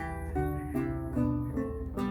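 Renaissance lute strings plucked with one repeated finger sound in a short repeated pattern, each note struck evenly with a slightly choppy, same-weight attack, quiet and close.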